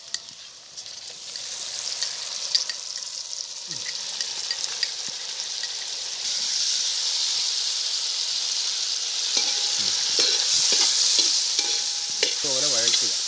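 Onions and ground paste frying for a Kerala-style chicken curry, a steady broad sizzle that swells louder halfway through, with scattered scraping stirs and a few spoon knocks near the end; no voices.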